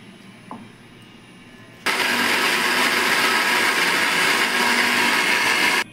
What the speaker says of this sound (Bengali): টমেটো, আদা, লঙ্কা মিক্সিতে আমি গ্রাইন্ড করে নিচ্ছি।